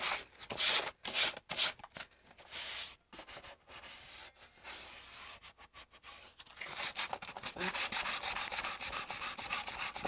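A surface is sanded smooth by hand to an even texture on an art piece, making close, gritty rubbing strokes that start in choppy bursts and settle into steady, continuous scraping.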